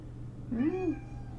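A pet cat lets out one short, rising-and-falling squeaky meow, close and clear against a quiet room with a low steady hum.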